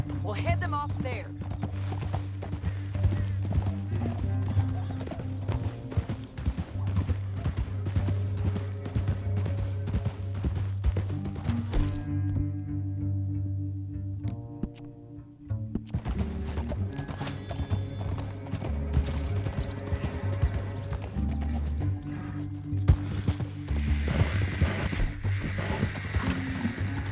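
Rhythmic clip-clop of horse hooves at a steady gallop in Red Dead Redemption II, loud and continuous, with a brief pause in the middle, alongside music and game effects.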